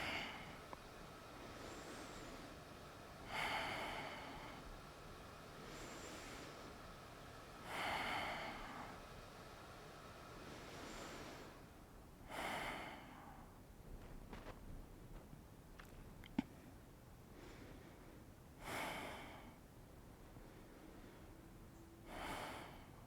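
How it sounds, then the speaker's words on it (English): Slow, deep breaths during a seated yoga stretch, each soft inhale and exhale rising and fading every few seconds, faint and close in a quiet room. "3 more breaths."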